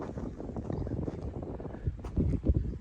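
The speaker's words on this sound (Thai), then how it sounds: "ลมก็ค่อนข้างแรงครับ" Strong wind sweeps across an open field, buffeting the microphone in low, rumbling gusts that swell louder toward the end, with no speech.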